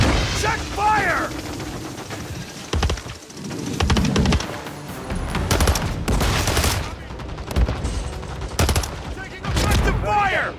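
Rapid automatic gunfire and single shots crack in dense bursts during a Call of Duty match on an airplane graveyard map. Game voice callouts are mixed loudly with the shooting.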